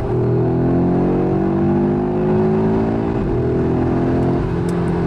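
Loud, nearby 2022 Audi RS3 2.5 TFSI engine in sport mode pulling hard, its droning pitch rising gradually and continuously with a brief hitch near the end.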